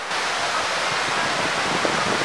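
Steady broadband roar of Cavinti Falls, a high mountain waterfall in Cavinti, flowing at modest summer volume, close and continuous with no talk over it.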